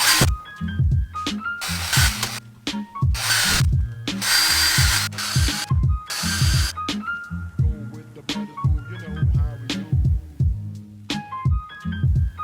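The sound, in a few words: drilling holes in a film holder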